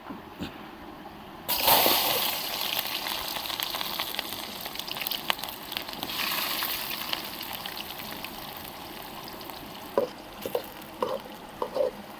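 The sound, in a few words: chopped onions added to hot oil with mustard seeds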